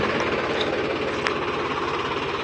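A tractor pulling a cultivator through a sandy wheat field, its engine droning steadily and loudly up close with a rattling, pounding mechanical clatter and no talk.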